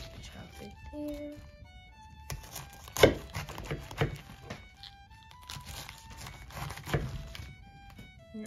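A knife chops fresh cabbage on a board to make sauerkraut, giving scattered dull thunks and crunches under intermittent talk.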